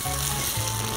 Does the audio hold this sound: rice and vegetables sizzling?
yes